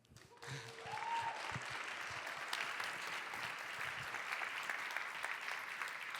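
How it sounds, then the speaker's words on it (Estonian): An audience at a closing speech event starts clapping after a brief pause and keeps up steady, moderately loud applause that fills the rest of the stretch. "Aitäh sulle, Sirli, ja veel kord aplaus."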